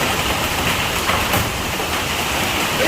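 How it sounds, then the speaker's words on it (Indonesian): Hailstones pour down during a hailstorm in Wiyung, Surabaya, a dense, loud, continuous patter and rattle on surfaces with a few sharper hits standing out. "Nah, ini hujan es batu."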